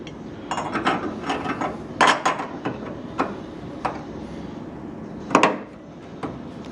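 A ratchet works on bolts during a classic Ford Mustang restomod build, giving irregular close clicks and knocks in short clusters with brief gaps between them, with no talk.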